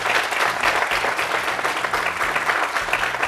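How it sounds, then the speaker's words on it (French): Young audience at a televised youth employment debate applauding themselves, a loud, sustained, even roar of many hands clapping at once. "Applaudissez-vous, applaudissez-vous."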